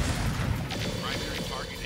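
Mech weapons fire in the RogueTech battle game as a dense, continuous roar of gunfire and blasts, with a voice talking over it throughout.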